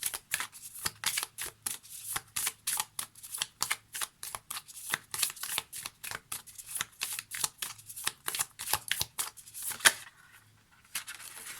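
Oracle cards shuffled by hand for an extra draw, a long run of quick riffling flutters and soft taps in a steady rhythm, close and fairly quiet, then tapering off with no talk.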